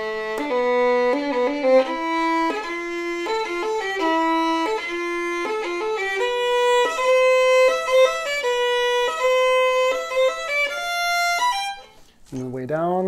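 Solo violin runs through Dounis exercise number five, a steady stream of quick bowed notes stepping up and down the strings, close and clear, ending abruptly with a short low sound after about twelve seconds.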